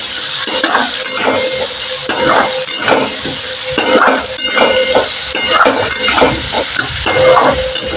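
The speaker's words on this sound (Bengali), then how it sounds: "আলুগুলোকে লাল লাল করে আমি একটু ভেজে নেব।" Potatoes salted and frying until reddish-brown in a pan over a raised gas flame, a steady loud sizzle broken by repeated scraping stirs of a utensil against the pan, with no voices.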